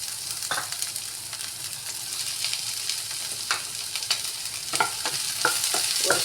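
Capsicum stir-fried in a pan for macaroni gives a steady sizzle, with sharp scraping and tapping strokes of a spatula recurring at uneven intervals.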